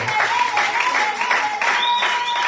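A church congregation applauds during a worship service, a steady wash of clapping with a sustained tone or voice held above it.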